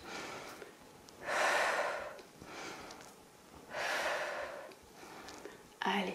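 Deep breaths during a pregnancy fitness workout, with two long, loud exhalations through the mouth and softer breathing between them, close to the microphone, then a sharp breath at the end.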